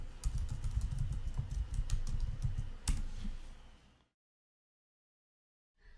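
Rapid, close keystrokes on a Mac computer keyboard as a terminal command is entered, a steady clatter for about four seconds before it stops into silence, with a faint click at the very end.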